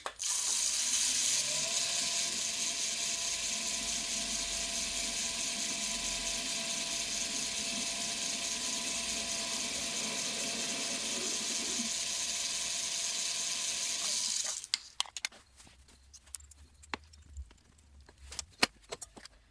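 A drill chuck holding a center drill runs steadily in a machine setup while making a golf club groove sharpener, a continuous whirring mechanical tone for about fourteen seconds before stopping abruptly, leaving faint scattered clicks and handling noises.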